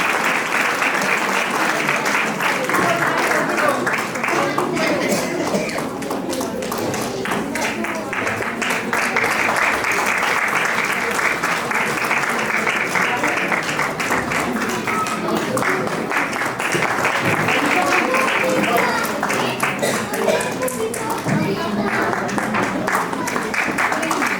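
Sustained, loud applause from an audience at a play school annual day as young children receive awards, dense clapping continuing for the whole stretch with a brief dip midway.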